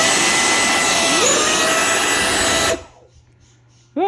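Small FPV drone motors whining loudly at throttle, a dense high electric roar that cuts off abruptly after nearly three seconds, then near silence before a brief rising whine returns.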